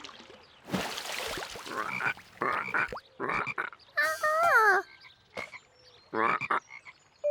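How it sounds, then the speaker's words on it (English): Cartoon frogs croaking loudly in a pond, a series of separate croaks and warbling calls in irregular bursts, close and prominent with quiet gaps between, no talking. "These loud frogs probably scared the tadpoles away."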